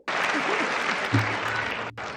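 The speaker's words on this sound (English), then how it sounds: "The longest applause." Applause at the 2026 State of the Union address, a dense, sustained roar of clapping from a large chamber crowd, loud and continuous with a brief dip near the end and a voice faintly underneath.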